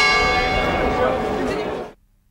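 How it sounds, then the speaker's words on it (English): A single large church bell rings out loud and close, its rich sustained tone ringing for nearly two seconds before cutting off abruptly into silence. "Actually, one bell meant the start of the workday."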